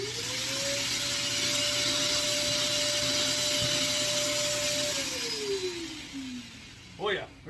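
Shop vacuum pump pulling suction on a homemade woodturning vacuum chuck, a steady loud whine and roar that holds level for several seconds and then winds down, with a voice starting at the end.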